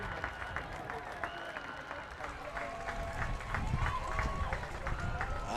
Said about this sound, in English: let's give a round of applause to the 2024 Pennsbury Athletic Hall of Fame inductees.